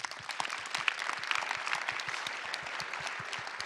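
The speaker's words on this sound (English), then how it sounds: "give a big applause to yourself" A conference audience claps together, with distinct sharp individual claps forming a lively, uneven patter that holds steady for a few seconds.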